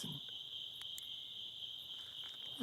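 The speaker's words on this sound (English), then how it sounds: "There's the sound of crickets." Crickets chirp steadily outdoors under a tree, a continuous high, shrill trill that stays even and moderately close, with no voices.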